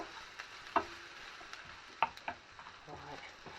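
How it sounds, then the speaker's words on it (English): Chickpeas and herbs cooking in a pan, a low sizzle under a few sharp clinks and scrapes of a spoon against the pan as they are stirred, quiet and close, with no clear talk. "I'm just going to mix them round, and we are going to cook this just for a couple of minutes"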